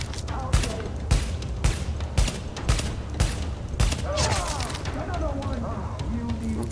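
Gunshots in The Division, a steady string of loud individual shots at a fairly even pace with heavier booming impacts, while someone talks over the firing.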